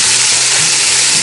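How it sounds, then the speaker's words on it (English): Chicken browning in a Dutch oven over a campfire, a loud, close, continuous sizzle and crackle of frying with no talking. "We'll have this ready to go as soon as our chicken's brown. All right, gonna go. Got a nice sizzle going on."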